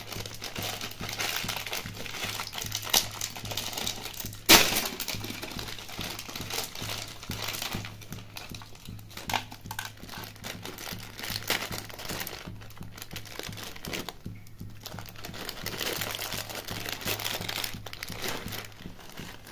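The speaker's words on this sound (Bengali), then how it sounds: "এদিকে মা ম্যাগির প্যাকেটগুলোকে ছিঁড়ে নিচ্ছে" Maggi noodle packets being torn open by hand: close, continuous crinkling and rustling of plastic wrappers for the whole stretch, with one sharper crackle early on and a steady low hum underneath. No one speaks.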